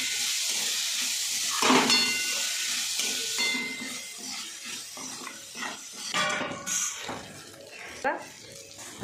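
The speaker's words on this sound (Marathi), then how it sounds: "आता ही डाळ ना चांगली परतवून घ्यायची" Masoor dal sizzles and hisses as it is stirred and sautéed in a pan, a steady frying crackle with scraping stirs, while someone talks over it throughout.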